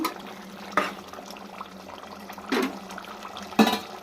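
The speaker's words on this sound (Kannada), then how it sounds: "ಚೆನ್ನಾಗಿ ಕುದೀತಾ ಇದೆ ಅವಾಗವಾಗ ಮಿಕ್ಸ್ ಮಾಡಬೇಕು ಇಲ್ಲಾಂದರೆ ತಳ ಹಿಡಿದಿಡುತ್ತೆ" Mutton curry bubbling in a pot, a low steady simmer with a few louder bubbling bursts spaced across the clip, close by, no voices.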